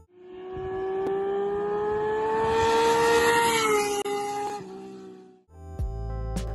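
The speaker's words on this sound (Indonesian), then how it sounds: "Ini adalah sepeda motor yang menggunakan mesin inline six yang dapat menjerit dan mungkin menghasilkan suara terbaik" A Honda CBX 1100 inline-six motorcycle engine screams at high revs in a sustained, loud, smooth wail with steady harmonics that ease off near the end, followed by a brief different mechanical tone.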